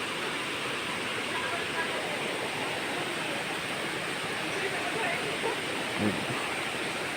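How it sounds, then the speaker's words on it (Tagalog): Tinago Falls roars with a steady, dense rush of falling water, a constant broadband wash that stays even and fairly loud from start to finish, with no distinct voices. "Na ay tubig nga dako ay gahulog"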